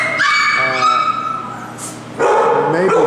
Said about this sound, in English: you can see Brown Mama dog with all black puppies